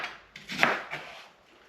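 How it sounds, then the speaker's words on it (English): A knife slices an onion thinly on a cutting board, giving a few quick, soft crisp cuts close by with nothing else heard. "And again, same idea with the onion. Cutting these super thin because they'll cook faster."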